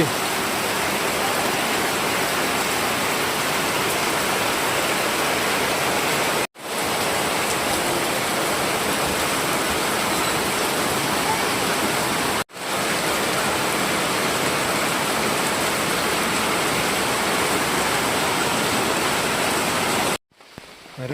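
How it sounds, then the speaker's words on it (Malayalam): Heavy monsoon rain pours steadily during the Onam season in Kerala, a dense unbroken hiss close to the microphone that fills the whole stretch, with only brief cuts and no voices over it. "ഭയങ്കര മഴയാണല്ലോ"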